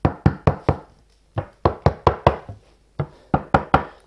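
Sharp hollow knocks on sealed wooden speaker boxes for ceiling speakers come in quick groups of three to five, close and boxy-resonant, with brief pauses between groups.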